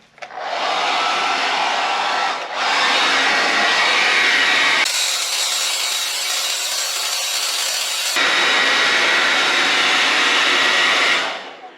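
A heat gun on high heat and high fan dries fresh paint on a patched drywall hole, giving a loud, steady blowing roar that keeps going with brief dips and shifts in tone as it moves.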